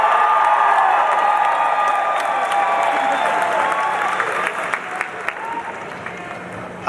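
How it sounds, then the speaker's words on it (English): A large crowd at a political rally in Maine applauds steadily, with scattered cheers and whoops, the clapping thinning out toward the end. "Let's hear some applause."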